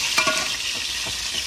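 Pigtail fries in a pot with a steady, loud sizzle and crackle, with a brief stirring scrape near the start and no talking.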